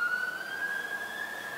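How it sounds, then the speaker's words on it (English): A fire engine siren wails steadily at moderate distance, a sustained rising tone with no talk over it. "That's the third time that fire engine has been out in the past hour."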